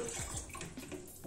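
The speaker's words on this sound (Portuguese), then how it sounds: "Vamos acrescentar 1 litro e 200 ml de água fria, gente." Cold water pouring into a blender jug, a short bubbling gush with splashy gurgles, close and moderately loud.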